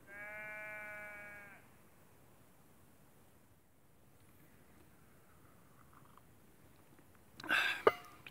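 A sheep bleats loudly and close by in open hill country at Alport Castles in the Peak District, one drawn-out wavering call at the start, followed by quiet wind and a brief rustling burst near the end.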